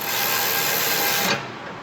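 A ratchet tightens a bolt during a knee section teeter-totter replacement, giving a dense, continuous mechanical clicking close up that stops abruptly near the end.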